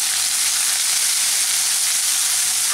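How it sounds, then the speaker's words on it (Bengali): Ginger paste frying in hot oil after the onions, a loud, steady, close sizzle with a bright hiss that holds evenly throughout, with no voices. "আদাটাকে তেলের মধ্যে একটু কষিয়ে নিলাম।"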